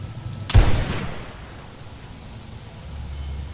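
A single sharp sniper shot from the Gobi Campaign Scout Rifle in Fallout: New Vegas, a loud close crack with a short decaying tail, then quiet low rumble.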